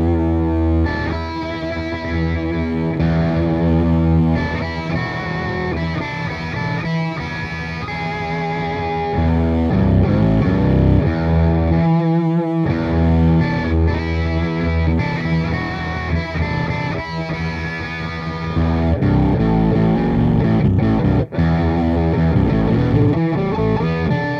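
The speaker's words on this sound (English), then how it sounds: "Now, this pedal will react different if you play with distortion or really clean." Electric guitar played in E through a Moog Minifooger MF Ring ring-modulator pedal with distortion, a loud, continuous jam of dense, warbling, metallic tones with sustained chords and brief pauses, no voices.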